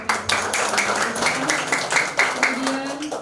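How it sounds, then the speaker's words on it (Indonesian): Congregation clapping at a church charity event in Batam, a brisk, fairly close burst of many hands that swells in rhythmic waves, with a faint voice or tone running beneath. "Beri tepuk tangan."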